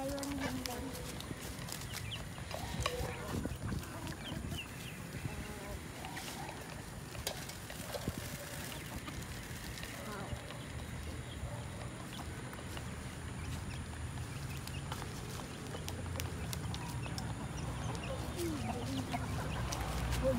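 Backyard chickens cluck and murmur while being fed at home, mixed with people talking and steady outdoor background noise.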